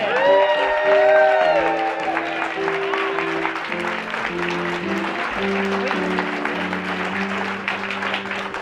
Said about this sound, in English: a huge round of applause for J. Drake Hamilton